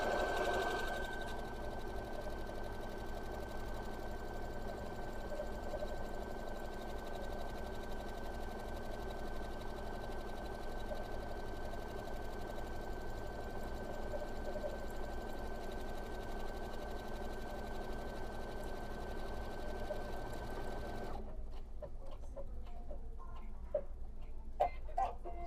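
A sewing machine stitches a buttonhole with an A foot, a steady fast whirring hum with a constant pitch that runs for about twenty seconds and then stops, leaving faint clicks and handling noise.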